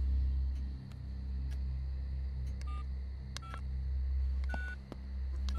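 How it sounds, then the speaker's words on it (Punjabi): A telephone is dialed to call the police station: a string of short electronic keypad tones and beeps sounding one after another over a low steady hum, with no talk. "ਮੈਂ ਕਹਿੰਦੀ ਹਾਂ ਥਾਣੇ ਫੋਨ ਲਾ ਹੀ ਲਓ"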